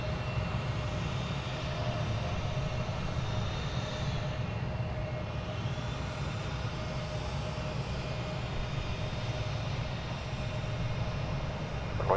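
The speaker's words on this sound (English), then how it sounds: "we've got Qatar Flight 731 coming in from Doha" Qatar Airways Boeing 777 arriving at DFW Airport, its engines producing a steady, continuous broadband roar with a faint whine that holds at even loudness for the whole stretch, with no talking.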